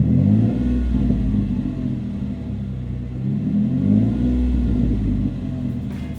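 A 2014 Chevrolet Silverado pickup with an MBRP side-exit exhaust, its deep engine rumbling and rising through a few throttle blips, the revs swelling and dropping twice over a steady low idle, heard close with no voices.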